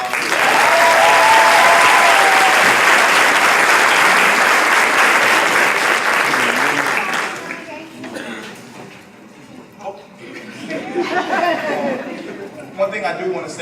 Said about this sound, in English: So y'all give these kids another round of applause.